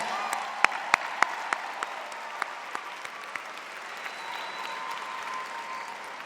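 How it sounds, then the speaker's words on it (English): Scattered hand claps from a graduation crowd honoring McKinney Boyd High School alumni, a few sharp distinct claps early that thin out into a faint, steady hubbub. "please a round of applause for these alumni of McKinney Boyd High School"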